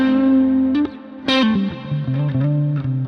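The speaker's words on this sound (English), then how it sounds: "it's just so easy to flick from really heavy saturated sounds right through to really clean edge of breakup sounds" Electric guitar through a distortion pedal, a few sustained saturated chords and single notes ringing out with sharp attacks, loud and close, no voices.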